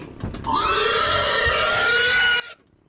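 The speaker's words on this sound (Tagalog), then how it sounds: "Baboy." A pig lets out a loud, sustained squeal close by, holding for about two seconds before cutting off abruptly.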